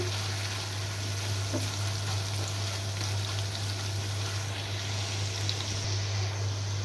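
Ground spice paste sizzles steadily in a pan for shrimp bhuna, with a constant frying hiss and a low hum underneath, no voices.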